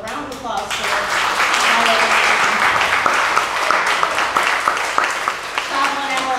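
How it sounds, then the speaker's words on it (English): An audience at a reading event with the Travelin' Appalachians Revue breaks into sustained applause, loud and dense throughout, with some voices mixed into the clapping. "So a round of applause for"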